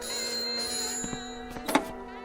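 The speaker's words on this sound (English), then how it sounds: "Or the telephone ringing." A telephone rings with a bright, tonal bell burst that peaks near the end of a short stretch, heard alone without talk.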